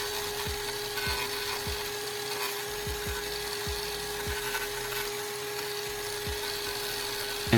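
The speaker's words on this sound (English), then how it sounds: "The coarse bolts effectively grind down the material" A homemade tool built from a discarded oil filter, with coarse bolts grinding down material, gives a continuous high whirring hum broken by repeated scraping strokes, close and steady with no talk.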